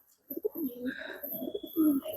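Pigeons in a high-flyer pigeon loft coo close by, soft throaty rolling calls repeating over about two seconds, with faint chirps in the background.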